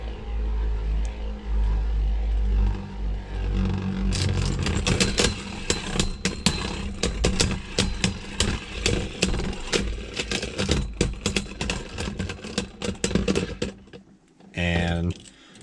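Beyblade Burst tops, Barricade Lucifer against Spryzen in left-spin mode, battle in a stadium with a whirring spin and a rapid, dense clatter of collisions. The clatter settles into a few final knocks as one top stops.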